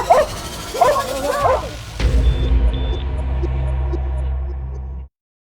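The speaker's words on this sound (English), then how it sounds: "My dog will bite you." A police dog barks in rapid bursts during a suspect arrest in Farmington, New Mexico, and an officer shouts commands over it. A steady low hum then carries on alone until it cuts off.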